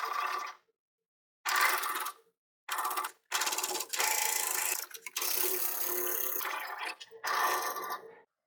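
Serger stitching the seam of a mesh zipper bag, close mechanical whirring in a series of bursts of varying length separated by brief pauses, rapid rhythmic needle chatter throughout.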